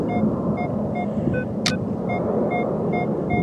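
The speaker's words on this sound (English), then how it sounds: "we got a little wind noise here along with the traffic" Steady road traffic rumbles beside a roadside dig, with a low wind buffet and faint periodic beeping tones underneath and a single sharp click partway through.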